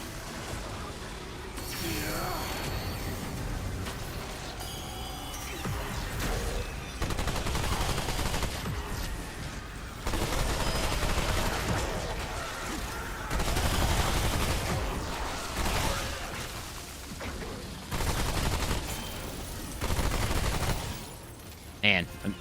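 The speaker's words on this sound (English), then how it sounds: "Man, I'm eating through bullets." Rapid automatic gunfire in Remnant 2, long sustained bursts of close, loud shots broken by brief pauses, with someone talking over the shooting at times.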